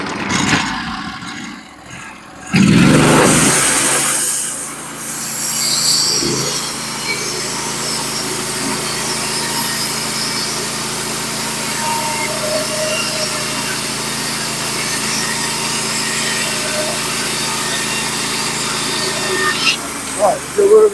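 Norwood HD36v2 portable sawmill in a short-log setup cutting a five-foot cedar log, a steady high-pitched engine whine with the blade running through wood, after a few seconds of clatter at the start.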